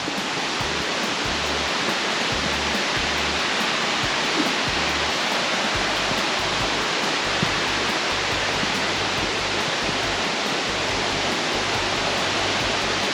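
Water rushing into a cave near a forest hike trail: a constant, dense roar of flowing water, loud and steady for the whole stretch with no voices.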